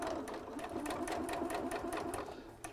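A sewing machine stitches two pieces of cloth together, its needle running in a fast, steady rhythmic chatter over a constant motor whir, close and uninterrupted.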